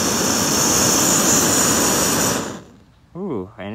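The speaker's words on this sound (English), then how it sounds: "You can't see it because it's gonna burn fairly clear, but you can also hear it. It's almost like a jet" An ultralight budget mini camping stove with a dual-fuel adapter roars steadily like a jet, loud and close. It cuts off abruptly, then a brief voice follows.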